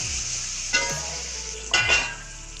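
Dried red chillies and shallots sautéing in a pan, with tomato going in: a steady sizzle runs throughout, and two louder bursts of stirring and pan scraping rise near the start and middle.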